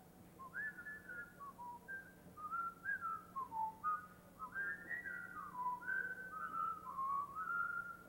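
A single whistled melody of quick gliding notes and short phrases, fairly faint and alone, rising and falling steadily for several seconds during a 1991 TV premiere broadcast of The Addams Family.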